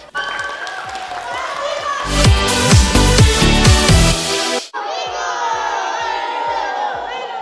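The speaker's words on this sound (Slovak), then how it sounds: "Ešte jeden veľký potlesk." School crowd clapping and cheering, a loud burst of applause with shouting that swells in the middle and then cuts off abruptly, with busy chatter and clapping continuing afterward.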